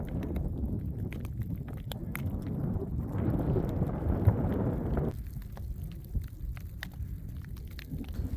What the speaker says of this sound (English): that thunder hasn't stopped. It has been continuously thunderclapping